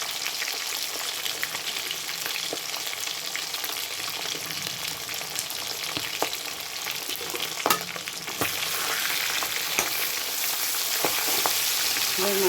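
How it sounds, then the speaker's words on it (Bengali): A fish head frying crisp in hot oil gives a steady, close, crackling sizzle with small pops and occasional stirring scrapes, swelling slightly louder toward the end. "মুচমুচে করে মাথাটা ভেজে নিতে হবে"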